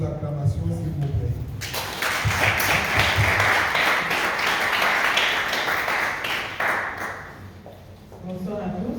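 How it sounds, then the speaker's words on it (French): Audience applause at a medical lecture on cardiac complications of hypertension: a dense swell of clapping rises after a voice, holds for several seconds, then fades as speech returns. "Sous vos acclamations, s'il vous plaît."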